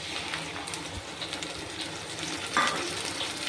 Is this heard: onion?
yes